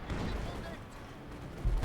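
Machine gun fire from a German OKW MG team near a mortar emplacement in Company of Heroes 2, a dense low rumble of rapid bursts with heavier booms near the end, under ongoing battle noise.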